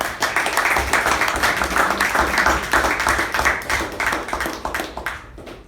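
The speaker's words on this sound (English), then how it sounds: "So can we have a loud round of applause for Toastmaster Gaurav?" Audience applause at a Toastmasters club meeting, a dense steady round of many hands clapping in a room, sustained for several seconds before starting to thin out at the end.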